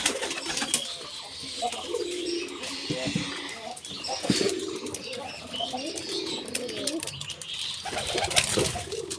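Pet pigeons in their coop coo in soft, low, repeated throaty calls, close by, with wing flutters, rustling and scattered knocks mixed in.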